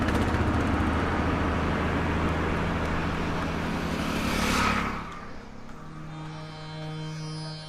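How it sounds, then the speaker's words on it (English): Lorry driving slowly along a road in India, a steady loud engine rumble with traffic noise that swells toward the middle, then drops to a quieter idle-like hum with a higher tonal whine. "Most of the next day is spent on the slowest lorry in India."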